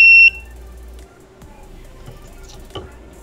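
A water level sensor circuit's buzzer sounds a short, loud, steady electronic tone and then cuts off, leaving quiet room noise with a few faint clicks and taps.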